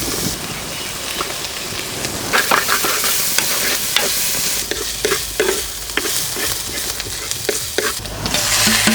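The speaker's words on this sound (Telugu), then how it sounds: "ఇదంతా ఒక 2-3 నిమిషాల పాటు బాగా కలుపుకోవాలండి." Onions and green chillies sizzle and fry in a pan, stirred steadily with scraping strokes over a constant crackling hiss, close and fairly loud, while a brinjal, raw mango and dried fish curry is being cooked.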